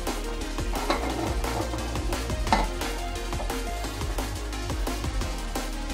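A spoon stirs boiling rice and broad beans in a pressure cooker with scraping and clinking metallic taps, over a low background rumble, before the lid goes on.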